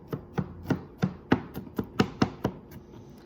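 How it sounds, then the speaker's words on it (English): A knife mincing garlic on a ridged cutting board makes a run of about a dozen crisp, close chops in a quick, fairly steady rhythm, with no talking. "So that's how I mince my garlic."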